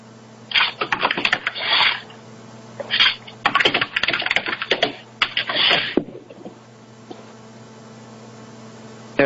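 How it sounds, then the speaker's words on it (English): Fingers tap on a computer keyboard in quick irregular bursts of clicking separated by short pauses, fairly close over a steady low electrical hum, with no talking. "Who's typing?"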